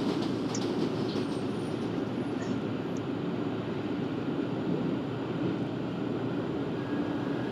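Continuous low rumble inside a moving London Underground Central line train in a train simulator game, with steady wheel noise on the rails and faint high squeals, no talking.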